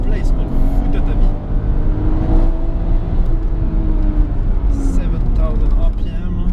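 A 1994 Nissan Skyline R33 GTS25t engine revs loudly nearby, its pitch climbing and falling in repeated sweeps with a steady rumble underneath, while voices speak over it.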